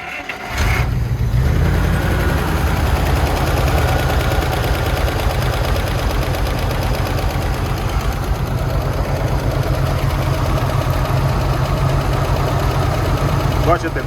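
A pump motor runs steadily through a grain-storage barrel setup at harvest time, a loud continuous engine-like drone with a low rumble, while people talk over it.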